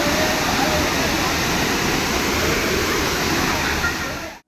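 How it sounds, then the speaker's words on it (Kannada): Waterfall plunging about 50 feet into a natural pool in Uttara Kannada, a continuous loud, broad roar of rushing water, steady throughout. "ಜಲಪಾತವು ಸುಮಾರು 50 ಅಡಿ ಎತ್ತರದಿಂದ ಅದರ ಕೆಳಗೆ ರೂಪುಗೊಂಡ ನೈಸರ್ಗಿಕ ಕೊಳಕ್ಕೆ ಇಳಿಯುತ್ತದೆ"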